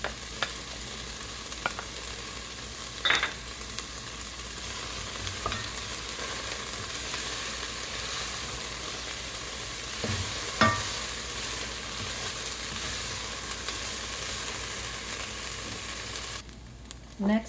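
Garlic cooks with onions in a soup pot for a mushroom wild rice soup, giving a continuous soft sizzle with occasional spoon scrapes and taps, and a brief clatter near the end.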